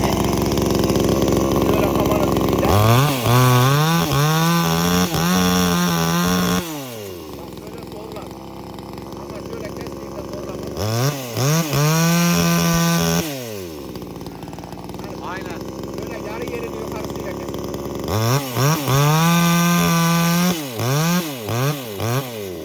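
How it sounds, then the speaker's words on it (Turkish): A Guardino G250 pruning chainsaw cuts wood, its engine revving up loud and close three times with rising, whining pitch and dropping back to a rough idle between cuts, while people talk. "Şimdi şu ağacı şuraya koyacağım."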